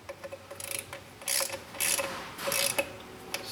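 Ratchet snugging the upper intake runner bolts on a Chevy Corvette, quick clicking pawl bursts interspersed with short scraping strokes, close and fairly quiet, with no speech.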